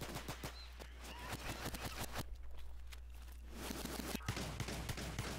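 Rapid bursts of sharp, close gunfire in Battlefield 3 crack out in dense, irregular clusters, with pistol and magnum shots among them and brief gaps between volleys.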